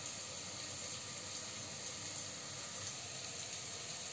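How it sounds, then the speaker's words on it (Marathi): Rice half-boiling in water in a pot on a gas stove for egg biryani, giving a steady, close hiss and simmering bubble that runs unbroken throughout, with no voices. "आता बॉईल होत आलेलं आहे"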